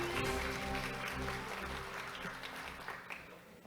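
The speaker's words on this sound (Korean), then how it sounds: "정석우 교수님께 큰 박수 부탁드립니다." An audience at an academic accounting conference opening ceremony applauds continuously, a dense, even wash of clapping that slowly thins toward the end.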